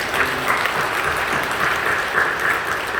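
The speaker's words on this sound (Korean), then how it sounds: "우리 사랑하는 마음으로 뜨겁게 박수해 주시면 감사하겠습니다" A church congregation at a Sunday worship service claps warmly and steadily, a dense, sustained round of applause with no talking over it.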